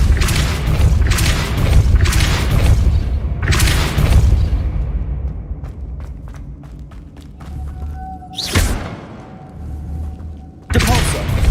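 Depulso spell blasts in Hogwarts Legacy, a series of heavy booming thumps with spell effects and running footsteps in between, loud and close in a busy game soundscape.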